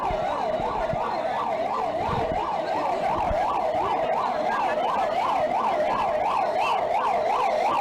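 An ambulance siren wails in a steady, rapid up-and-down cycle during an emergency rescue rehearsal with NDRF teams preparing for air attacks. The siren is loud and close, running unbroken throughout with faint traffic rumble beneath.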